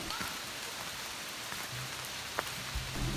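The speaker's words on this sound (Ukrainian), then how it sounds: "Незупинний рясний дощ погнав нас назад до машини." Steady heavy rain patters throughout, a dense hiss with a few louder drops and drips standing out, fairly even in level, in the mountains near Yaremche, Ukraine.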